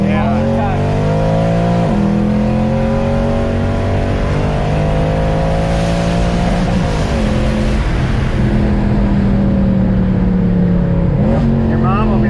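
A Lamborghini Aventador SVJ fitted with a Balboni exhaust roars loudly nearby, its engine rising in repeated rev sweeps with sharp drops between gear changes, while people talk over it.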